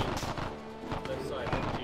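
Gunfire rattles through a World War II video game battle as a player voice talks over it, with dense rapid bursts and machine-gun fire packed into under two seconds.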